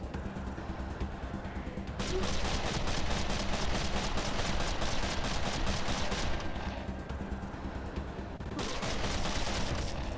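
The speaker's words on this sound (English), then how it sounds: "This guy's just firing like crazy." An enemy in Wasteland 2 fires rapid automatic bursts, dense rattling volleys that stop briefly and then start again.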